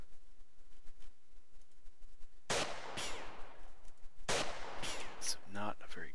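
Two sharp gunshots in the Jagged Alliance 2 Urban Chaos mod, a sniper nest firefight, each loud crack followed by a ringing tail, separated by a couple of seconds over quiet ambience.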